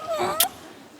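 A single cat meows close by, a short rising-and-falling cry, followed by a brief burst of noise, then quiet room tone.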